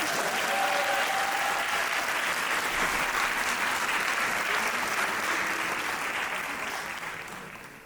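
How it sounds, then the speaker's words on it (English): Sustained applause from a graduation ceremony audience honoring an award recipient's family, a broad, steady wash of many hands clapping that holds for several seconds, then gradually tapers off. "Let's give him another round of applause."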